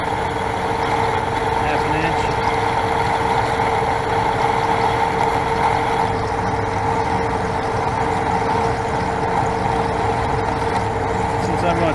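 A lathe turning a bore dry with a carbide tool, producing a continuous loud mechanical drone and grinding hum, steady for the whole stretch with a faint voice beneath.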